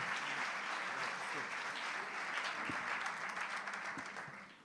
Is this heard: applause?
yes